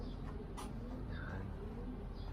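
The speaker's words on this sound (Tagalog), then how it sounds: "Titignan namin yung mga kalapati." Soft, low pigeon coos murmur faintly through a rumbling outdoor background, with a brief higher chirp.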